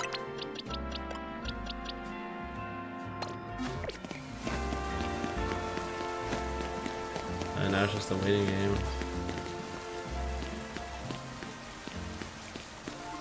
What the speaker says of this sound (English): I'm not sure why it's still raining all over the town